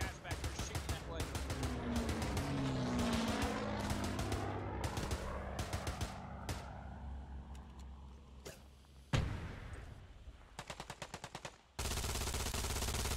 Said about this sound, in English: You got guys back there shooting that way.